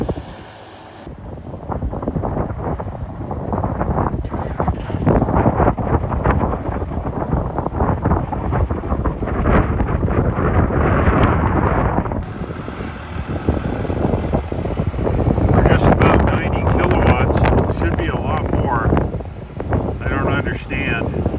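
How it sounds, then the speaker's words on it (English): Strong, cold wind buffeting the microphone throughout, a loud rumbling roar that swells and eases, with voices speaking underneath, outdoors beside a Ford Mustang Mach-E on a road trip. "It's windy and cold"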